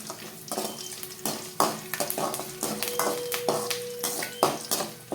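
Garlic frying in a pan as it is stirred, with steady sizzling broken by repeated scraping strokes of a spoon against the metal, close and fairly loud.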